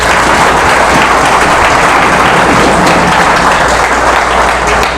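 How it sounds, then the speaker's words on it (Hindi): Loud sustained audience applause at a Brahma Kumaris Rajyoga and meditation talk, a dense wash of many hands clapping evenly for five seconds with no voices over it. "तालियां नहीं बजाएंगे?"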